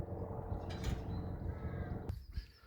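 Several crows caw from a distance over a quiet outdoor background, a few harsh calls scattered across the short stretch.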